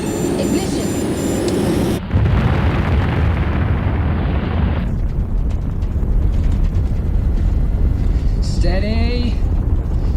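A spacecraft engine ignites and burns in a 1995 sci-fi TV series: a quieter start gives way at once to a loud, sustained broadband roar, with a brief rising electronic chirp near the end.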